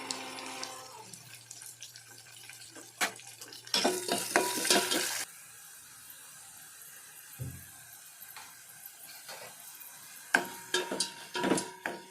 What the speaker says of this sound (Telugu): మిగిలిన పోపులన్నీ కూడా బాగా ఫ్రై చేసుకోవాలి